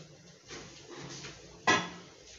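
Mutton pieces dropped into a pressure cooker set on a kitchen stove, a few soft clattering handling sounds followed by one sharper clunk near the end, close and fairly quiet.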